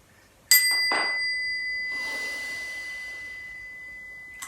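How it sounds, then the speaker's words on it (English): A single bell strikes once to signal the start of an adventure in a children's yoga class, ringing with a clear tone that decays slowly over several seconds, with faint soft noise in the room. "when you hear the sound of the bell, that will be the alarm that gets us up and ready for our adventure"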